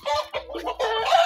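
Roosters cluck and squawk up close in a quick, noisy burst of calls.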